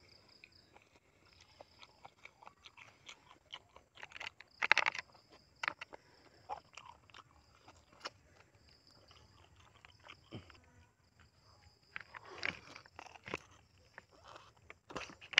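Quiet, close crunching as crisp squid is bitten and chewed, in scattered bursts with short pauses between.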